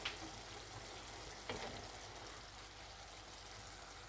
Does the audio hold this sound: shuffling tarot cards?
no